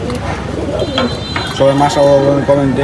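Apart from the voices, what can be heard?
pigeons cooing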